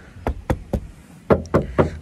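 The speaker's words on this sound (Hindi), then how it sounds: "देखो आराम से दरवाज़ा बंद हो रहा है" Six sharp thuds in two groups, three evenly spaced then three slightly heavier ones, each a short solid impact of a modified Maruti Alto's door shutting, with damping sheets installed, no voices.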